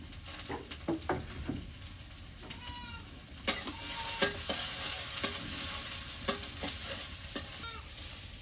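Chopped onion and green chili frying in oil in a pan for a big fish curry, stirred with a utensil: a close, steady sizzle broken by repeated scraping strokes, with no talking.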